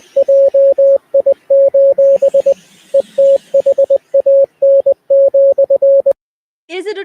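Morse code radio broadcast of the Mission Impossible movie: a loud, pure electronic tone keyed in rapid dots and dashes with short gaps, stopping abruptly near the end before a brief snippet of voice.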